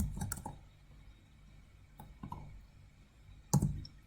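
A computer keyboard gives a few quiet, scattered key clicks in short bursts with pauses between, close up in a quiet room.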